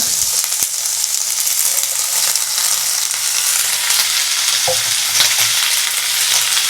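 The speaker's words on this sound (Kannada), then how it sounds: "ಸೊ ಇದಕ್ಕೆ ಡೈರೆಕ್ಟ್ಲಿ ನಾವು ನಮ್ಮ ಜುಕೀನಿ ಸಬ್ಜಿನ ಹಾಕೊಂಬಿಡೋಣ" Zucchini pieces frying in a hot pan, with steady sizzling and crackling throughout, interrupted by occasional spoon stirs and a clack near the end, close and loud with no talking.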